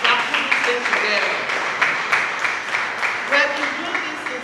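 Audience applause at a Jewels of Africa Foundation community event, a dense steady wash of clapping with scattered sharper claps, sustained at fairly even loudness throughout.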